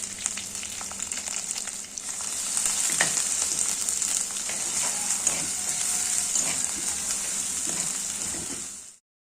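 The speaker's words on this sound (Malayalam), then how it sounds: "ഒന്ന് നിറം മാറുന്നവരെ ഇതൊന്ന് വഴറ്റി കൊടുക്കാം." Crushed curry leaves, ginger and garlic sauté in hot oil in a pan for a Kerala catfish curry, a continuous bright sizzle and crackle that holds steady for several seconds, then cuts off abruptly.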